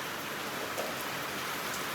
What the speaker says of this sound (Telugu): ఇప్పుడు వర్షం అయితే స్టార్ట్ అయిపోయింది ఘోరంగా పడుతూ ఉంది